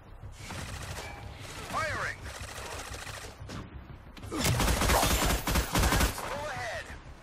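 Ship guns firing in a naval combat game, heard as bursts of rapid gunfire with a louder sustained volley near the end, mixed with game sounds and some chatter.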